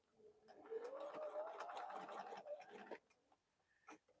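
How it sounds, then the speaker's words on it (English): A sewing machine stitches quietly at close range, running in a short burst with a brief back stitch while making a quilted bowl cozy, then stopping, leaving only faint handling sounds. "I'm going to start stitching right before one of these V's and back stitch"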